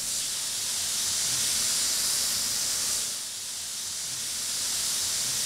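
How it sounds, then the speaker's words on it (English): Red wine deglazes a hot pan, giving a loud, steady hiss and sizzle that dips briefly midway and then swells again, with no talking. "Scrape on the bottom as it deglazes and add the rest of the wine."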